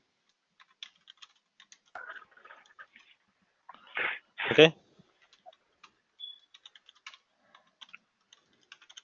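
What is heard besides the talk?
typing on a computer keyboard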